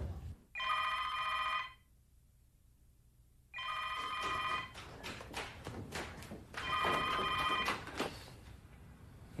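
An old telephone bell rings in bursts, three loud trilling rings separated by silent gaps, with muffled thumps and room movement between and under the later rings.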